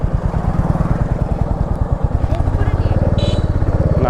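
A Royal Enfield Meteor 350 motorcycle engine thumps in a steady, close, low rhythm throughout, with the beat quickening slightly later, while people talk over it.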